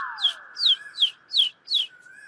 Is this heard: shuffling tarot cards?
no